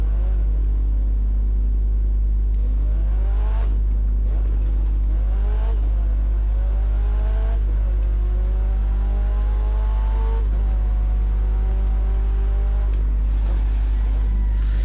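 Italian sports car engine in the racing game The Crew 2, revving loudly and steadily with repeated rising gear sweeps and shifts over a constant low drone, no talk.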